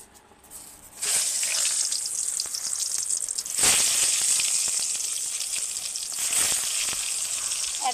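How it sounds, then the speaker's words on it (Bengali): Eggplant (brinjal) slices frying in hot oil in a wok, a steady loud sizzle that jumps up sharply once the slices go in and keeps hissing continuously, with a second surge as more pieces are added. "এইবার একে একে বেগুনগুলো দিয়ে ভেজে নেব।"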